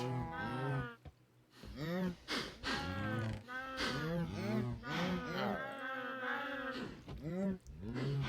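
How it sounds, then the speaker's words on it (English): Cows in the Minecraft video game moo loudly and repeatedly in overlapping, drawn-out calls close by, while someone speaks briefly over them. "The problem is the cows are loud."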